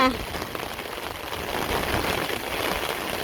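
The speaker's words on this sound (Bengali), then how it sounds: "খুব বৃষ্টি নামছে" Dense, steady rain patters on a surface, a continuous wash of hiss that swells slightly, with a brief voice at the start.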